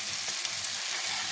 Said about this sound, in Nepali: अब गाजरलाई पनि एकछिन फेरि भुट्छु